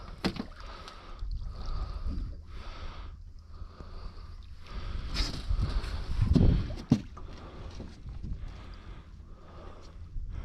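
A boat moves across water during a fishing trip, a steady low rumble with splashing and sloshing surges that swell louder around the middle, heard up close without talk.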